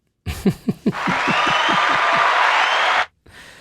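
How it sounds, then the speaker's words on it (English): A small group applauds and chuckles after a talk-show segment, a brief burst of clapping mixed with laughter that swells, holds for about two seconds, then cuts off abruptly. "let's give you a round of applause for that one"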